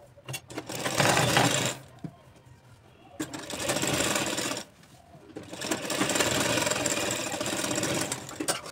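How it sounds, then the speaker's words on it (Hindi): Sewing machine stitching the seam of palazzo pants, running in three loud bursts of rapid mechanical whirring separated by short pauses. "तो हम आसन की सिलाई सीधी तरफ ही पहले लगाएंगे"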